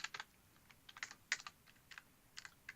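Keys clack on a computer keyboard in quick, uneven bursts of light taps with short pauses, close and quiet, no talking.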